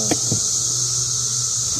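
Honey bees buzzing steadily around a backyard apiary hive, a dense continuous drone close by, with a couple of brief low knocks near the start and no talking.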